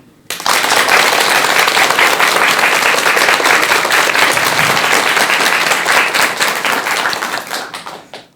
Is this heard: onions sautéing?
no